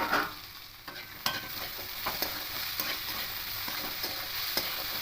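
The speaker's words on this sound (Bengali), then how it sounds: "মিশিয়ে আরো একটু ভেজে নেব" Steady frying sizzle of bitter gourd and potato with a spatula scraping and stirring in a pan, sharp clicks of utensil against metal every second or so; no voices.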